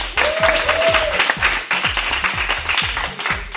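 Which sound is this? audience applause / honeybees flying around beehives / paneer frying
audience applause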